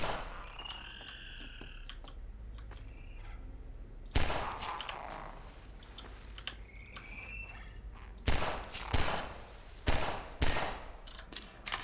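Loud bursts of gunfire from the video game Half-Life 2 Episode Two, in a mine setting, come in separate volleys at about four, eight, ten and eleven seconds, with quieter game ambience and creature chirps between the shots.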